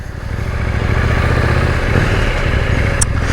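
A 2021 KTM 890 Duke R twin-cylinder motorcycle engine runs close by, a loud, steady low rumble that holds without a break for a few seconds.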